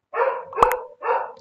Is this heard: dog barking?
yes